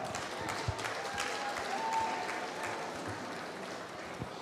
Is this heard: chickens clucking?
no